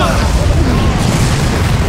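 Cannon fire in the Far Cry video game, a loud, dense rumble of blasts and booms that fills the whole stretch with no gaps, and speech is buried in it.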